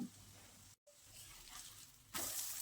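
A thalipeeth, a flatbread of bottle gourd, poha and flour topped with melted butter and oil, sizzles quietly on a hot griddle as a soft steady hiss that briefly cuts out and then swells louder.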